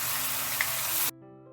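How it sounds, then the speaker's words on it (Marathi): Peanut curry paste with soaked tamarind sautéing in a pan for a Maharashtrian fasting peanut curry, a steady broadband sizzle that cuts off abruptly near the end, leaving a quiet tonal hum. "चांगलं सगळं परतून घ्यायचं व्यवस्थित."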